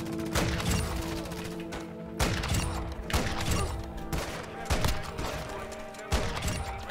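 Bolt-action sniper rifle shots in the video game Modern Warfare 2, a series of loud booming reports at irregular intervals about a second apart, each followed by mechanical clatter, with no talking.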